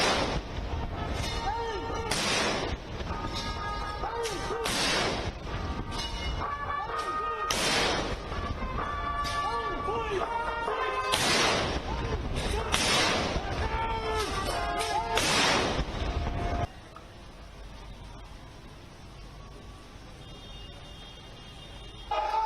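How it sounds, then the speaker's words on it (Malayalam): Indian Army artillery firing a 21-round gun salute at a rehearsal in New Delhi, heavy booming blasts repeating every couple of seconds, loud and echoing, before the firing stops and leaves a quieter ambient stretch. "റിഹേഴ്സലിന്റെ ഭാഗമായി 52 സെക്കൻഡിനുള്ളിൽ 21 റൗണ്ട് ഗൺ സല്യൂട്ട് സൈന്യം നൽകി."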